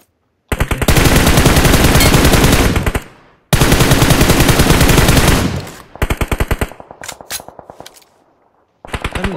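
Automatic gunfire from a battle royale video game comes in long, loud, rapid bursts, with shorter volleys and brief pauses between them and no talking.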